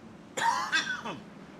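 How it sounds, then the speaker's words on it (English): A person coughs twice in quick succession, close and fairly loud, with a brief raspy tail after the second cough. "My apologies for the coughing."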